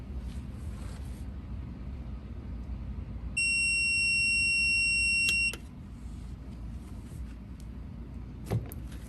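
A heat press timer beeps while a skinny tumbler is sublimated, a single sustained electronic tone lasting about two seconds over a constant machine hum, followed by a couple of faint clicks.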